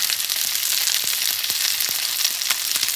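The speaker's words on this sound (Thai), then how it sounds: "ถ้าเนื้อก่อนก็ทอด ให้มันเหลือง" Chunks of beef fry in hot oil, giving a loud, continuous sizzle with scattered sharp crackles and pops throughout, close by and with no voices.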